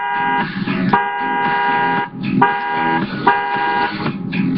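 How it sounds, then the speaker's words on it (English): Car horn honking in the video game Gran Turismo 6, a bright harmonic blare sounded in four or five repeated presses, loud and close with brief gaps. "we're gonna honk the horn."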